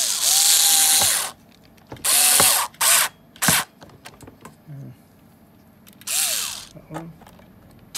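A part is screwed back onto a Tefal multicooker during an E0 error repair, giving several loud, close bursts of rasping, ratchet-like clicking separated by quieter pauses and a few sharp knocks.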